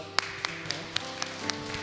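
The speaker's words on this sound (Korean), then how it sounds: "박수." Light, scattered clapping from a small congregation at a Korean church service, a thin sparse patter of about seven soft claps over a low background hum.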